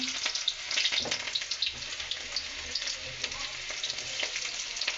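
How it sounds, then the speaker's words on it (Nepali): Onions frying in hot oil in a pan on a gas stove, a loud, close crackling sizzle with stirring scrapes, continuous throughout and with no voices. "तेल हाल्छु। यसमा प्याज राखे"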